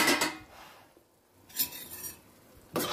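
A spoon scrapes and stirs a spinach and onion curry in a pan, making three short, crisp metallic scraping bursts separated by quiet pauses, with faint sizzling underneath.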